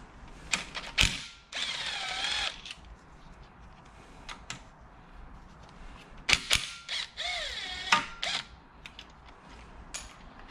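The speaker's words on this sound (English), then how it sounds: "And use a 10 millimeter to remove the tensioner." Ratchet with a 10 mm socket backing out the engine tensioner bolt during a teardown of an L15B7 engine, giving bursts of quick clicking and metallic turning in several separate spells, close up, with no talk.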